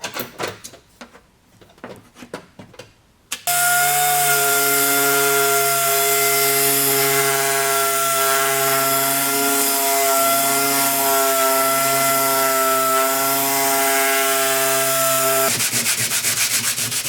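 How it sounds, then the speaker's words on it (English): A power sander whirs loudly and continuously on body filler on a Mk2 Golf wheel arch, with a steady buzzing drone and gritty rasp, after a few seconds of scraping and knocking, then cuts off. "sanding down the filler and getting absolutely covered in it"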